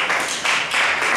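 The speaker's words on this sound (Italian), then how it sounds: "Alziamoci e facciamo un applauso a Gesù." Church congregation applauding together, a dense wash of many hands clapping at once, steady and fairly close, with slight surges in intensity.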